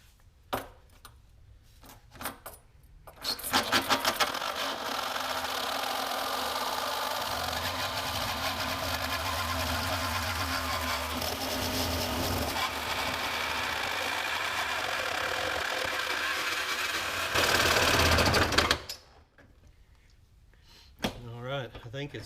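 A Sawzall reciprocating saw cuts through the steel body of a Subaru car, a loud, continuous buzzing rasp that runs for about fifteen seconds before stopping, with quieter handling noises before and after.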